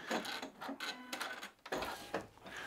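A home sewing machine stitching a white quilt block, its needle running in short rhythmic bursts with brief pauses between runs, fairly faint and close.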